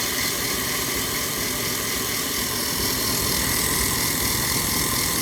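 A homemade sanding machine built from old bandsaw parts and scrap bits runs with a steady, loud mechanical drone and hum, constant throughout with no talking.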